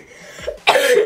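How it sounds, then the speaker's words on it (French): A single sharp, close cough after a brief breathy throat sound, loud and harsh. "Je ne peux pas rire sans tousser, je suis désolée."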